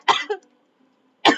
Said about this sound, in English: Now I'm coughing and stuff.